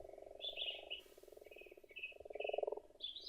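Frogs call at a forest breeding pond, a series of short, pulsing croaks and trills, some in quick bursts, with faint chirps over quiet woodland background.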